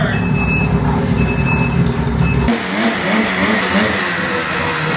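A snowmobile with a freshly rebuilt motor idles loudly and revs, a steady close engine roar that shifts tone midway.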